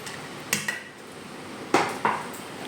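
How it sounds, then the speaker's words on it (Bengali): Hot white rice being served onto a plate, heard as a few sharp clinks and scrapes of a spoon against dishware spaced over a short, quiet stretch. "সাদা ভাত বেড়ে দিচ্ছি"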